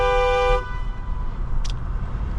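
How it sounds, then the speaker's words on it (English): Horn of a brand new 2025 Mercedes-Benz CLA 250, a single short loud honk lasting about half a second, close up, followed by quiet cabin hum. "somebody cuts me off in my brand new 2025 Mercedes-Benz CLA 250. I want to honk the horn at them."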